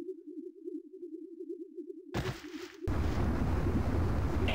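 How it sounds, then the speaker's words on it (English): Enemy turrets blowing up in the game Tribes 2: a low warbling hum gives way to a sudden burst, then a loud sustained roaring blast. "Enemy turrets destroyed."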